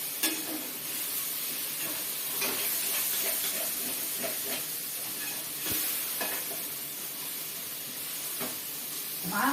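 Diced raw mango, salted, sizzles steadily in a pan for mango coconut rice, with occasional stirring scrapes and clicks over a continuous frying hiss.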